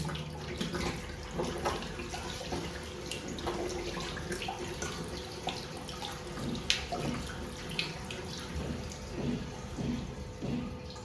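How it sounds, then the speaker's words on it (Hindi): Water gushes and gurgles steadily out of a bottle as it drains, a close, continuous splashing and glugging that lasts the full stretch with no voices. "ठीक 10 सेकंड में ये पानी जो है इस बॉटल से निकल गया"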